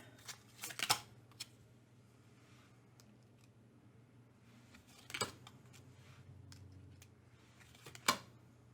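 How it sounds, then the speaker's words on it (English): Fortune-telling cards are laid out for a reading, giving a few quiet slaps and shuffling flicks in separate bursts against a soft background hum, with no talking. "So we're going to put out a few cards to see what your overall fortune was in that life."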